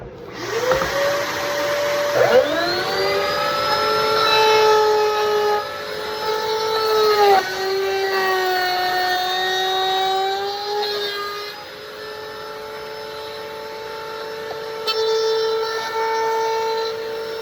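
A router table spins up with a rising whine, then drones steadily with harmonic tones as a flush trim bit cuts through wood coasters, shifting pitch as the load changes.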